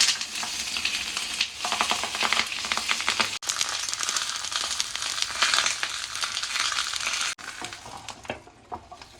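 Fish frying Kerala pollichathu style, wrapped in banana leaf in a pan: a loud, dense, steady sizzle running throughout with crackling spatters, briefly interrupted twice, no voices.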